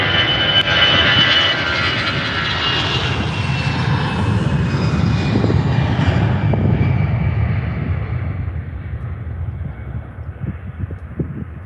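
An EasyJet airliner at Faro Airport roars loudly with a broad engine rumble and a whining tone, then gradually fades as it moves away, with no voices.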